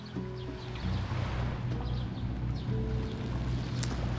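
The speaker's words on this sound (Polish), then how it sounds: "tutaj już jakieś motoróweczki" Motorboats on the sea off a beach at Ksamil, Albania, their low engine drone rumbling steadily under wind and water noise, moderately distant.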